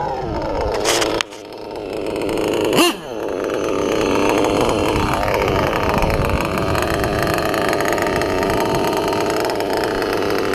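A small engine revs with a couple of sharp bursts early, then settles into a steady, buzzy, close idle that runs on alone.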